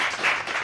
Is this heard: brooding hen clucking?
no